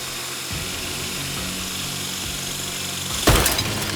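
A power tool grinds into the windshield glass of a 1969 Camaro, a steady buzzing whine with low pulsing strokes, ending in a sudden sharp burst as the tempered glass gives way.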